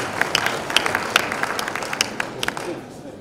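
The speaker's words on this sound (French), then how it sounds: "On peut les applaudir" An audience at a French-language school quiz contest claps in a brief, sparse burst of scattered hand claps that thins out toward the end.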